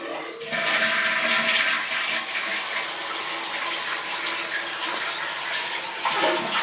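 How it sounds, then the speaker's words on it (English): A household toilet flushes loudly and close, a sustained rushing gush of water draining from the tank through the open flapper into the bowl, steady for several seconds with no one talking. "and when you flush"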